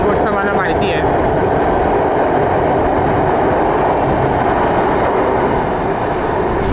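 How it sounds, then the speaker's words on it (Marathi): A Mira-Bhayandar Line 9 metro train pulls out of the station with a loud, steady rumble and rushing roar that fills the whole stretch, close by and constant. "ही मेट्रो सुटलेली आहे. आवाज खूप करते"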